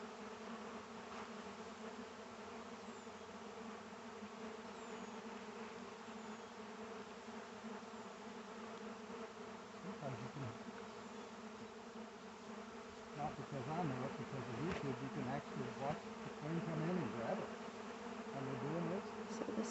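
A honeybee swarm congregating in one spot, a dense continuous buzz of many bees close by, growing busier toward the end, with faint talk underneath.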